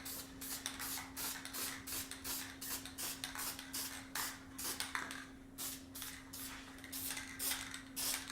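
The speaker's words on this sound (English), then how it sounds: "I'm just going ahead and spray this side" Repeated short bursts of spray coating hiss in quick succession onto a homemade copper fuse block, close and fairly quiet, over a steady electrical hum.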